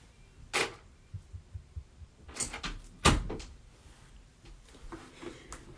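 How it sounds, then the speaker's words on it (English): An indoor door is pushed shut with one sharp thud a little past the three-second mark, preceded by softer knocks and rustling in a quiet room. "Let me actually close this door."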